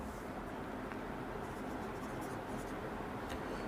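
Soft scratching of math being written out on paper or a board during a class 10 math lesson, faint and continuous against a steady background hiss, with a few light strokes standing out.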